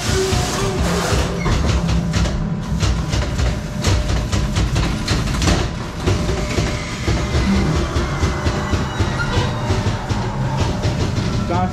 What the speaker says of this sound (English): The House of Horrors ghost train.